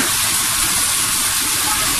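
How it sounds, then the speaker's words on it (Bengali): Cauliflower hitting hot spiced oil in a pan over a medium flame, sending up a steady, loud hiss and sizzle that holds close and even throughout, with no voices. "ফুলকপিগুলো দিয়ে দিচ্ছি।"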